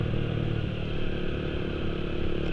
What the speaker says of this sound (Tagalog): Tetest natin yung exhaust sound, flyby at saka engine sounds, engine exhaust note tsaka engine sound.